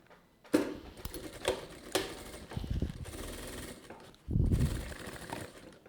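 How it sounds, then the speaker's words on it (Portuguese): A sewing machine stitching the side seam of a pencil case lining, running in several short bursts of rapid mechanical ticking separated by brief pauses, close and moderately loud. "eu vou começar costurando lateral do forro e depois a parte principal"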